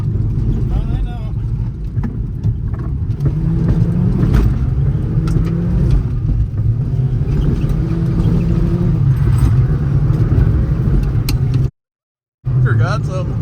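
Toyota Tercel engine revving and driving hard, a loud steady low rumble under frequent talk from occupants, cut off briefly near the end before resuming.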